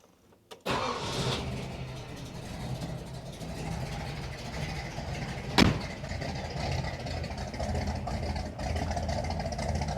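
A Ford 292 Y-block V8 engine cranks and catches, then settles into a steady, rumbling idle with a brief rev partway through, loud and close with no talking.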